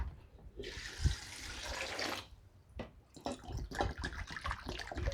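Water pours into a cooking pot holding washed star gooseberries, a steady rushing splash lasting under two seconds, close and fairly loud, followed by softer clinks and handling noises.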